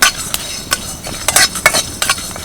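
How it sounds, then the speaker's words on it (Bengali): Whole coriander, fennel, cumin and a dried chilli dry roasting in a wok, heard as a string of scraping stirs and light rattles against the metal at close range, with no voices. "প্রথমে শুকনো কড়াইয়ের মধ্যে একটা মশলা ভেজে নেব।"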